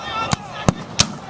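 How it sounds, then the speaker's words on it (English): A Gatling gun at a Civil War reenactment raid in Brooksville, firing three distinct loud, sharp shots at a steady pace over a faint background of people talking outdoors. "There goes the Gatling gun."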